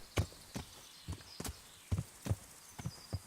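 Horse hooves walking through a forest in the medieval game Kingdom Come: Deliverance, a steady clip-clop of about ten close, moderately loud footfalls with no talking.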